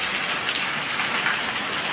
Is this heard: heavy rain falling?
yes